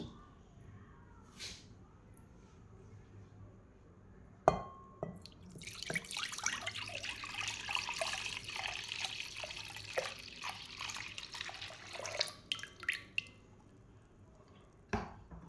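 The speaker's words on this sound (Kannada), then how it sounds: "ಅದಕ್ಕೆ ಈಗ ನಾನು ಬಿಸಿ ಮಾಡಿ ತಣ್ಣಗೆ ಮಾಡಿದಂಥ ಹಾಲನ್ನು ಹಾಕ್ತಾಯಿದ್ದೀನಿ" Boiled and cooled milk poured into a bowl of food-coloured mixture for a tapioca sago jelly drink, a steady, close liquid splash and gurgle that runs for several seconds after a few scattered drips and clinks.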